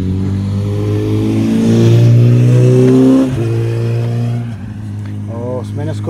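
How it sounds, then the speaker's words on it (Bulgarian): A Yamaha XSR 900 motorcycle revs hard and accelerates up close, its engine note rising then dropping sharply at a quick gear change, then pulling again before easing off near the end. "Сменя скорост, все едно е с quickshifter."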